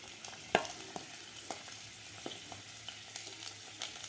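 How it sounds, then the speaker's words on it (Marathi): Cauliflower, beans, capsicum and carrot stir-fry in a pan over a high gas flame for restaurant-style veg Kolhapuri, a soft continuous sizzle broken by sharp spatula scrapes and clinks at irregular intervals. "आता मोठ्या गॅसवर आपल्याला हे भाज्या व्यवस्थित दोन मिनिट परतून घ्यायच्या आहेत"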